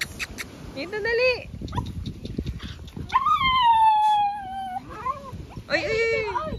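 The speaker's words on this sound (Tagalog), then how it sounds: "Oh, beach dogs." Several beach dogs howl and whine in long rising and falling tones, with overlapping yelps and whimpers nearby and some background commotion, at Paliton Beach, Siquijor.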